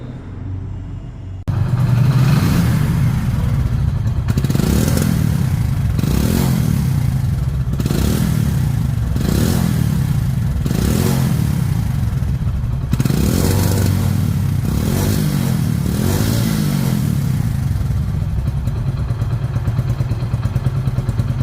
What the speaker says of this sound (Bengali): এই বাইকটির এখন সাউন্ড শোনা যাক গাড়িটির সাউন্ড শুনলে আপনারা বুঝতে পারবেন যে গাড়িটির ইঞ্জিন কোয়ালিটি কেমন